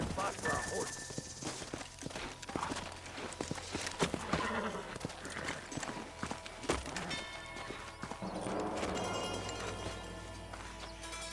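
Horses' hooves clip-clopping in the Red Dead Redemption video game, irregular hoofbeats mixed with game sounds, a possible whinny and voices speaking over them, with a background score swelling near the end.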